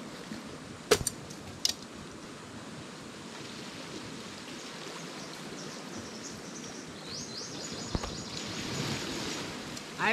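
Continuous soft wash of surf at the shore, a steady rushing noise with a few brief clicks and knocks on top.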